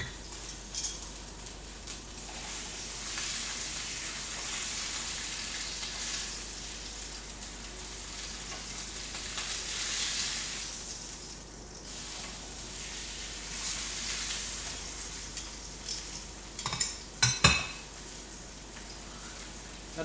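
A steak sears in a hot pan with a steady, dense sizzle and crackle that lasts throughout, and a few louder pops and stirring clatters come near the end.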